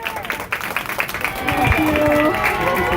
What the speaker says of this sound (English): all of the staff come down and they line the hallway and they clap and they cheer